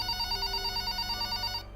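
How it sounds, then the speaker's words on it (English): A telephone ringing with a rapid trilling electronic bell, steady and close, before the ring cuts off near the end. "my phone begins to ring"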